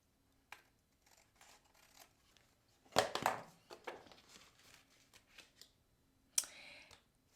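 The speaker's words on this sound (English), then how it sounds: "Then I'm going to turn it over and just cut across" Scissors cut across a folded paper card in a few short, crisp snips, with quiet rustling and handling noises in between and louder crunchy bursts near the start and end, close and without talk.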